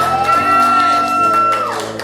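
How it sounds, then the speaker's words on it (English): Shouts and whoops from the audience at a live improv show. The cheering is loud and sustained, with held voices rising over a crowd that keeps going throughout. "Another round of applause to Kelsey on our live stream"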